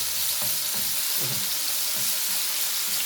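Garlic cloves sauté in a hot pan with a steady, close sizzle, broken by a few soft stirring clatters, with no one talking.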